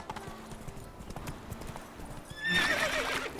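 Roach the horse in The Witcher 3 gallops with a steady clip-clop of hooves, then lets out a loud, close neigh near the end.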